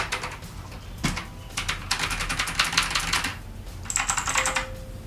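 Typing on a KB-748 MASSIMO waterproof IP68 mechanical keyboard with low-profile keys, a dense patter of soft, muted keystrokes in bursts, close up, with a faint tone near the end and no talking.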